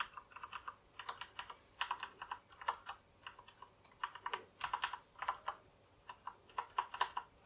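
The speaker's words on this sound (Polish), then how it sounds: "pewnie byście chcieli posłuchać, jak te klawisze pracują." Rapid bursts of typing on a Thermaltake X1 mechanical keyboard, clicky keystrokes in uneven flurries with brief pauses, close and fairly quiet, no voices.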